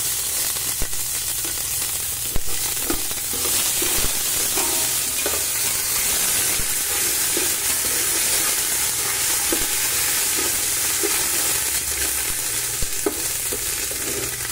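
Curry leaves sizzle and crackle in hot oil while tempering for a puffed rice mixture, with a steady loud frying hiss and occasional stirring scrapes throughout, no voices.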